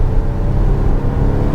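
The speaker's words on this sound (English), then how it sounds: "and the engine kicks in." A 2025 Volvo XC60 plug-in hybrid engine starts up and pulls the SUV up a steep Vancouver hill, a steady low engine drone with rising whir, close and loud, alone without talk.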